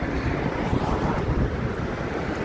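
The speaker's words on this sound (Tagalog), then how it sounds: "Ang lakas ng alon." Strong waves surge and crash against a seawall beside a restaurant on a cold, windy day, a continuous loud roar of surf mixed with heavy wind buffeting the microphone, with no talking.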